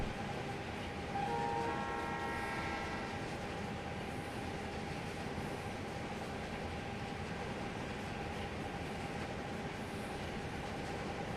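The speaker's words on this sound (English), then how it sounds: "it's actually a coal train rather than a wood train" A coal train runs in the Trainz: A New Era train simulator, a steady broadband rumble of wagons rolling on for the whole stretch, with a brief tonal horn-like whine early on.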